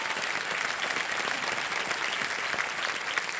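A studio audience at a quiz show claps steadily and loudly throughout, a full, even wash of applause with no break.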